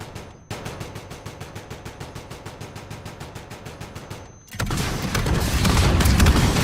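Gunfire in Call of Duty Modern Warfare, a long steady stream of rapid automatic shots at an even rhythm, then a sudden switch to a louder, denser roar of heavy firing.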